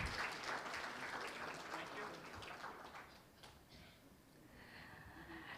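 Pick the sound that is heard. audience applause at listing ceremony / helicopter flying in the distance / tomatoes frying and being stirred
audience applause at listing ceremony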